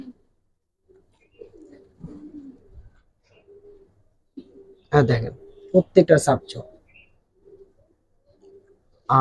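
Gribaz racer pigeons kept for colour and flying give short low coos close by, breaking out in a louder burst midway, while someone talks over them.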